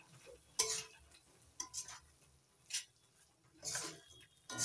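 Raw papaya sweet mixture with cardamom and cinnamon stirred in a pan: quiet, sparse scraping and clinking strokes of a spoon against the pan, four or five separate bursts over near silence.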